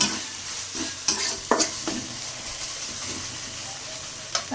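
Chicken and new potatoes fry in a pan with a constant sizzle and hiss, broken by a handful of quick scraping stirs, near and fairly loud, with no speech.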